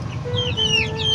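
A mother hen clucks softly in a short run of quick, close calls.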